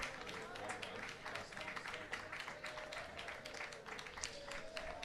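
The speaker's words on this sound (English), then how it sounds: "He's going to get a nice ovation by the crowd." Baseball crowd at a varsity game gives a departing pitcher a steady ovation, a dense wash of clapping and cheering that holds evenly for several seconds.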